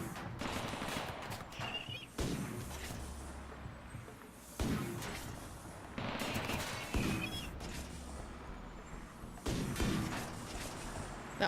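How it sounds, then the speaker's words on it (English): Automated turrets fire bursts at raiders in the RimWorld video game, several sharp gunfire volleys separated by short pauses, fairly quiet overall. "Let's see if the turrets can handle this."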